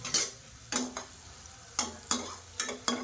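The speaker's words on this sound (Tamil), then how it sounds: "வெங்காயம் நல்லா வதங்கிட்டு இருக்கு" Onions sauté in a hot pan for a pepper chicken gravy. A continuous sizzle runs underneath, with several loud scraping bursts from stirring spaced irregularly across the clip.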